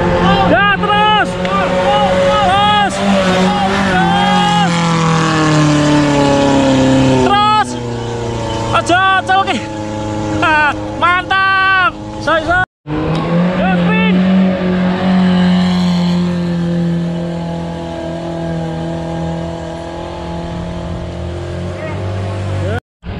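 A Jeep engine revving hard while climbing a steep hill called Tanjakan Ngledok in Segorogunung, loud and close with rising and falling revs throughout, under people shouting directions.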